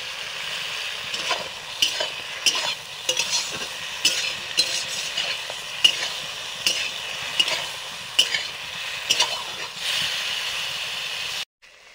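Frying and stirring in two kadai pans, with fish curry simmering and parwal frying: a steady close sizzle with repeated scraping stirs and clinks of a utensil against the metal, alone without talk.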